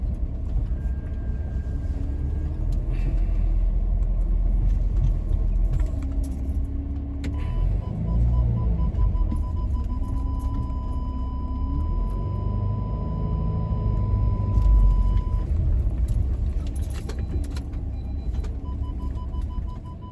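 A car drives slowly up to a villa in Tuscany, its steady engine rumble continuous and close for the whole stretch, with a faint whine and a brief mechanical hum in the middle.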